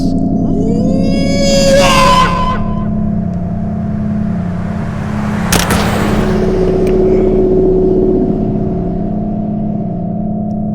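A car rolls along a road with a steady low engine hum, joined early by a sweeping whine and tonal squeal, then a sharp burst midway before the drone settles again.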